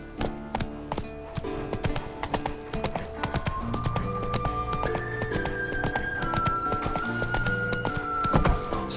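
Hooves of the horse in The Witcher 3 drum in a fast, steady clip-clop beneath game music and ambience, close and continuous throughout the gallop.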